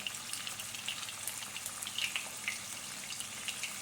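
Quiet, steady sizzling and crackling of chopped chicken cutlets frying in a pan, with small pops scattered throughout.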